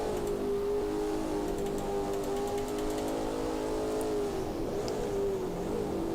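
A Lola T70 race car engine, heard on board at the classic Zandvoort circuit in a sim racing game, drones steadily at sustained revs, loud and close, with slight pitch shifts near the end.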